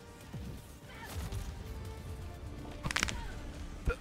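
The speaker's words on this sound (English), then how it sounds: "I dropped an orbital cannon." An orbital cannon strike in the Helldivers 2 video game, with a dense, continuous battle din, then a sharp crashing impact around the middle and another short whack near the end, all loud and close.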